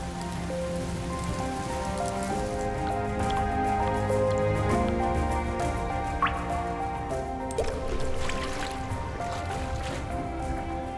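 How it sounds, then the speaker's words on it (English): Rain falls in the Hainan tropical rainforest during the monsoon and typhoon season, a steady soft patter of drops and drips on foliage, continuous and fairly gentle, with a low tonal backdrop beneath it. "The abundant rainfall saturates every corner, ushering in a new chapter in the rainforest."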